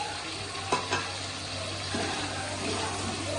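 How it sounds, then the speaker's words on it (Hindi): Garlic paste and tomatoes frying for Bannu beef pulao, a continuous close sizzle with a low steady hum beneath and a couple of quick spoon knocks near the start, no voices. "लहसुन का पेस्ट हमने डाल के और टमाटर डाल के इसको खूब सारा भूनना है"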